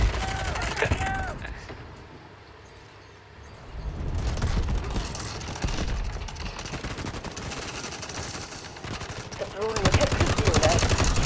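Pistol gunfire in Delta Force Mobile, sharp rapid shots in bursts against a busy game soundscape, loud and near, with a voice heard briefly.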